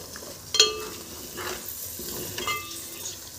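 Chilies sizzle in a pan as peas and cauliflower go in and are stir-fried, giving a soft frying hiss with a couple of sharper spoon clinks against the metal.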